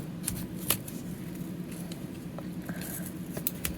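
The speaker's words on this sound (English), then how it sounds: "you're going to slide it in between there and start cutting the yarn." Scissors snip through yarn wound on a pom pom maker, giving faint, sparse, crisp cuts and small rustles at close range in a quiet room.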